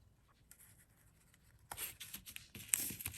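Cardstock paper torn along its edge, quiet at first, then a few close, dry rustling rips in the last second and a half.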